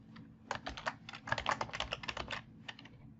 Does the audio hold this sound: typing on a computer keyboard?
yes